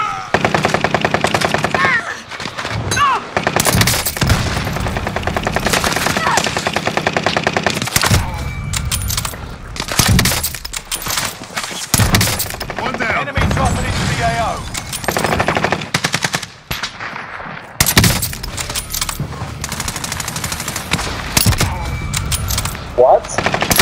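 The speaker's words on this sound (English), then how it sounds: "Under hostile fire." Rapid automatic gunfire from Call of Duty Warzone Rebirth, loud bursts of machine-gun fire and shots crowding together in repeated volleys with brief gaps, game voice lines faintly among them.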